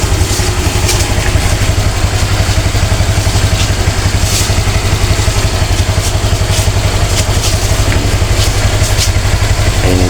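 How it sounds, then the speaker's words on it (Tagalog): A motorcycle engine idles steadily while warming up, its fast, even clattering putter close and loud throughout, with no voices. "Ito, pinaiinit na natin yung makina."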